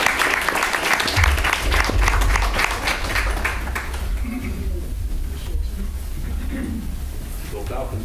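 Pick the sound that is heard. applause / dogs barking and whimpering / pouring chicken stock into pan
applause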